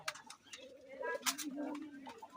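Pigeons in a breeding loft, including a pair of white birds, give soft low cooing amid faint rustling, with a voice murmuring in the background.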